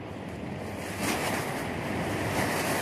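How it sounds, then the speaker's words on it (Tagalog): Strong wind roars steadily into the microphone outdoors on a farm during a pomelo and papaya harvest, a broad rushing noise that swells slightly partway through, with no voices. "Wow, ang lakas ng hangin, grabe."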